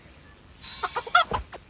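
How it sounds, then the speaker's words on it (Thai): A hen in the video game Mini World gives a short run of clucks, with a few quick, clipped calls close up over about a second and no talking. "โอ้โห ไก่ตัวเมีย"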